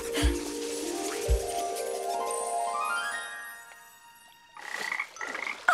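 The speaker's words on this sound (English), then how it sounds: "Still not found your family, little frog?" Cartoon frogs croak in a green pond, a few deep croaks opening over a bright rising musical tone, followed by a burst of chirpy croaking near the end.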